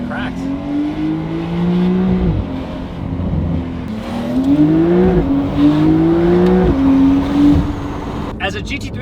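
Loud, close engine of a Porsche 992 Carrera with a Valvetronic Designs titanium exhaust and OEM downpipe revs and climbs through several gear changes, each rise cut by a shift, with a voice briefly heard near the end.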